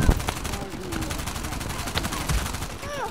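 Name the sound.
gunfire in a video game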